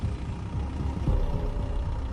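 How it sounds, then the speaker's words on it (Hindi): A vehicle, a hearse, pulls to a stop on a deserted road: a low engine rumble with a brief brake hiss midway, steady and fairly close, no voices. "मजबूरी में राजेश ने गाड़ी रोक दी"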